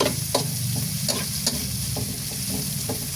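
Onions sautéing in a pan for monggo, a steady close sizzle with periodic scraping stirs of a utensil at a loose rhythm.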